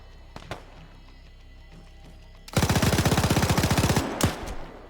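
A rapid burst of automatic gunfire from a video game lasts about a second and a half, dense and loud, after a few scattered single shots and thumps. More isolated shots follow.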